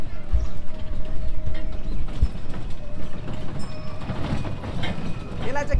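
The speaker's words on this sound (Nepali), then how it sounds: "ल रेल पनि आयो यहाँ रेल रेल" A mini train pulls in at a resort in Gokarna. Its rhythmic mechanical clatter and rattling carry steadily and fairly loud, with faint voices in the background.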